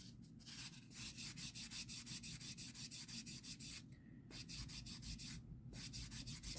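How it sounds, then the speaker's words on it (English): Bronze clay is sanded with a soft, smooth finishing board in quick, rhythmic back-and-forth rubbing strokes, close and fairly quiet, with two brief pauses and no talk. "I use a really soft finishing board, actually on the design, not the bad grit, just the really smooth one."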